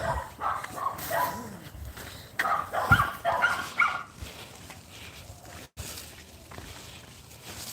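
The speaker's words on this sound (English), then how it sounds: "there's a lot of dogs in this area, my area" Several dogs bark and yip in a residential neighbourhood at some distance, the barks coming in irregular bursts that rise and fade, with faint footsteps and outdoor background noise beneath them.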